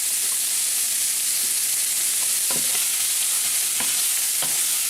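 Oysters and green onions fry in a pan for a Hangtown fry, giving a loud, continuous close sizzle with a few faint scrapes and pops.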